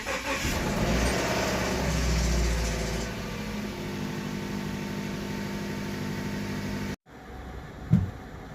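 Subaru FB25 engine, freshly rebuilt and warmed up, running on the stand with an oil pressure gauge fitted and a knock, a steady loud mechanical drone that cuts out near the end, then a short sharp thump.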